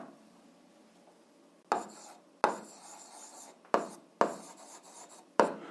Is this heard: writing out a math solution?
yes